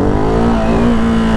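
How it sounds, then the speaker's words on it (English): Ducati Hypermotard 698 Mono RVE single-cylinder engine revving hard under riding, with a quick-shifter auto-blip smoothing the gear change, a loud close continuous engine roar with no talk. "I love, love, love this quick shifter and auto blip"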